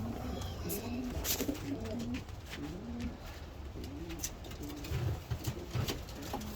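Racing pigeons in a loft give repeated low, rolling coos that overlap one another steadily throughout, with a few brief rustles and a faint voice in the background.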